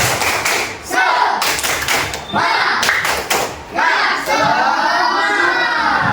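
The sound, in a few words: class doing rhythmic spirit clapping (tepuk semangat)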